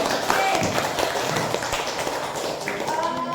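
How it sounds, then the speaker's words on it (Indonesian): Classroom applause for a student group, a steady patter of many hands clapping together at moderate loudness with some voices mixed in. "Beri aplaus untuk kelompok 1."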